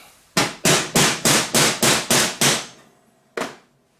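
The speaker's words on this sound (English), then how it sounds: "if I take this is a piece of just mild steel, right? So if I take a sledgehammer to this" A sledgehammer striking a piece of mild steel, eight loud, evenly spaced metallic blows in quick rhythm, a short pause, then one final hit ringing out, close and alone.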